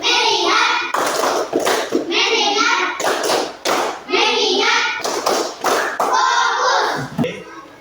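A class of children chants a clapping routine with a teacher, and sharp bursts of group hand claps fall between the loud voices in a quick rhythmic pattern.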